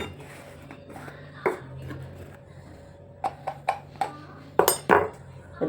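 Spoon scooping licorice root powder while mixing a skin pack, with scattered light metallic clinks and scraping taps against a container, several close sharp knocks grouped near the end over faint room noise.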